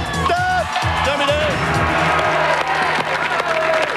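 A studio audience on a French TV game show applauds and cheers in a dense, sustained roar with no pauses, while a host talks over it.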